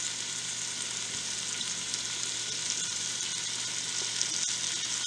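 Carrots and celery sauteing in a pot for seafood chowder, giving a steady, close, continuous sizzle and crackle with no talking.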